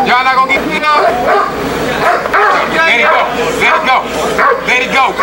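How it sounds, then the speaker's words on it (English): A police dog barks loudly and repeatedly in rapid bursts, mixed with tense shouting voices throughout. "I'm going to send this police dog to bite you."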